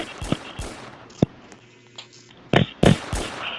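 Sharp firecracker pops in Roblox Brookhaven go off in an irregular scatter, a few sounding close and loud, others fainter, with a low hum beneath.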